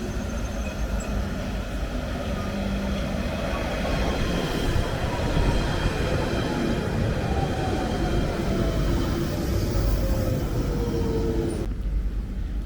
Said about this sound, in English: here comes the eastbound train to Epping